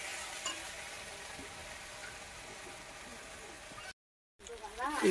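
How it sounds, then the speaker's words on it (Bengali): Spices frying and being stirred in a kadai for a jackfruit curry: a steady, moderate sizzle with scraping stir sounds, a brief silent gap, then louder stirring near the end. "এখন মশলাটা ভেজে নেব।"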